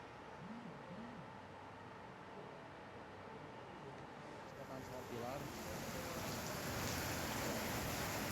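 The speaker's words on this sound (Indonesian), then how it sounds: "video amatir merekam saat hujan deras disertai angin kencang terjadi di Kota Bandung" Heavy rain driven by strong wind in the city of Bandung, West Java, a dense, steady roar of downpour and gusts that swells louder partway through, with indistinct voices faintly underneath.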